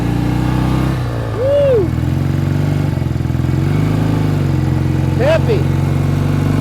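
A 1967 BSA Spitfire Mk III twin motorcycle runs with a loud, steady engine drone while being ridden, its pitch rising and falling as the rider shouts excitedly over it.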